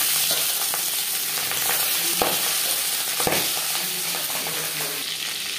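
Pangas fish fillets frying in hot refined oil, seasoned with salt and turmeric, giving a loud, steady sizzle with brief sharper crackles and spatters.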